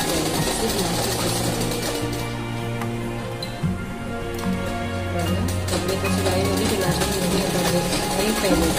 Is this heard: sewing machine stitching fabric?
yes